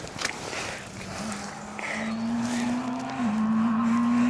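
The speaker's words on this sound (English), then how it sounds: "Vauxhall Corsa, little 1400." A little 1400 Vauxhall Corsa rally car runs a stage of the East Riding Stages Rally, its engine droning steadily and rising in pitch as it draws closer, with gravelly road noise underneath.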